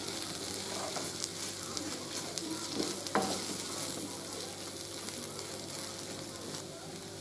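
Chilli, coriander and turmeric powder stirred into chicken in a hot pan for Thalassery rava chicken biryani, with a steady sizzle and occasional spoon scrapes throughout.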